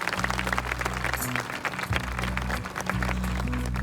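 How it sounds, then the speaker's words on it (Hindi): Applause from a church congregation at a pastor's mission event in Punjab, dense and sustained, with a low steady hum underneath and no voices. "और भाई पास्टर बालू के लिए भी जोर से एक ताली बजाएंगे"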